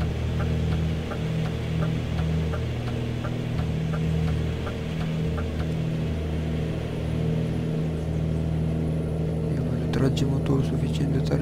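Low, steady engine hum of a DAF XF Stanley 105 truck in Euro Truck Simulator 2, droning evenly at idle with faint ticking and a brief flurry of clicks near the end.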